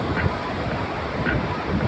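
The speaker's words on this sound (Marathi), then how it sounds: "लाटांचा आता खूप वेग वाढलेला आहे" Ocean waves breaking on a Goa beach at evening, a loud continuous surf roar with rolling swells and some wind buffeting on the microphone, no clear speech.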